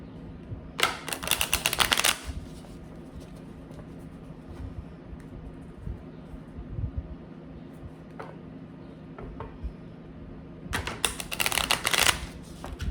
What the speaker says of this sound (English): now we're gonna pull from the Kipper deck. See what card wants to come out.